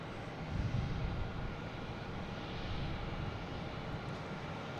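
A JetBlue airliner backing out of its gate at Boston Logan International Airport, heard as a low, steady, distant rumble of engines and ground noise.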